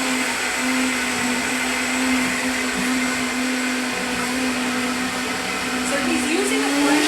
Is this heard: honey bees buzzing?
no